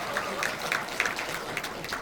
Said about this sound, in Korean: 이현희 국회의원님께 다시 한번 큰 박수 부탁드리겠습니다.